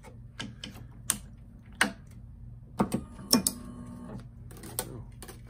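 A Tecnifibre Ergo One tennis stringing machine with all-metal parts clamps and tensions a string, giving a close run of sharp mechanical clicks and clacks with a few brief ratchety bursts.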